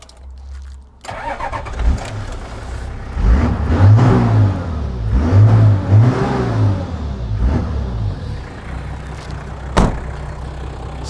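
A turbocharged Toyota Land Cruiser HJ60 with a custom 3.5-inch exhaust fires up and revs several times, its deep exhaust booming and burbling before settling to a rough idle.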